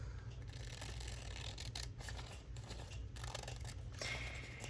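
Scissors cut paper for a creative journal, with faint, quiet snips and small mechanical clicks spaced irregularly in an otherwise hushed room.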